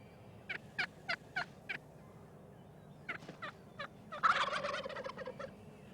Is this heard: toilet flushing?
no